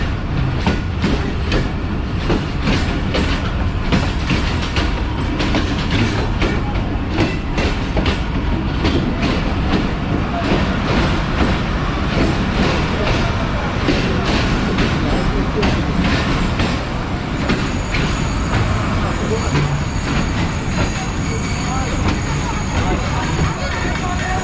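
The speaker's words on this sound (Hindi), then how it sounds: "ठीक 8 बजे हमारी ट्रेन पहुंच रही है" A train rolls into Sadiqabad railway station with loud, continuous rumbling and rhythmic clickety-clack of wheels on track, heard close alongside background voices and crowd noise.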